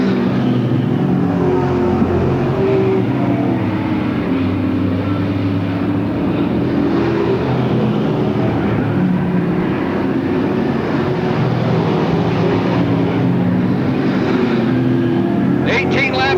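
Stock cars racing in a 30-lap B main on a track at Lakeport, California, a loud continuous roar of several engines with a race announcer talking over it.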